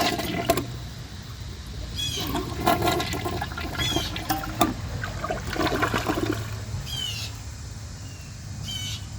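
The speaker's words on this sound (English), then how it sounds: "It took more than 1 flush, but it was able to do it with 1 tank of water." A 2022 Mansfield Summit toilet with a 10-inch rough-in flushing, a steady close rush of water running throughout, dotted with short clicks and squeaks.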